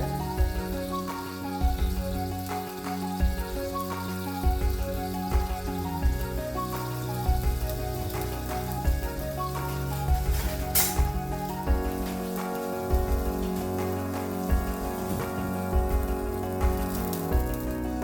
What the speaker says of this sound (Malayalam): ഇരുമ്പ് ചട്ടിയുടെ വെള്ളം വറ്റി